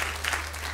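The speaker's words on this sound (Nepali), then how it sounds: "वा जोरदार ताली" Studio audience on a Nepali comedy talk show giving hearty applause, a dense, even clapping wash at moderate loudness over a steady low hum.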